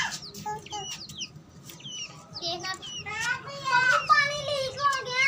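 Young chicks peep in quick, high, thin bursts, clustered and growing busier toward the end, mixed with children's voices and chatter nearby.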